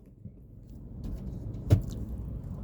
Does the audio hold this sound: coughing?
no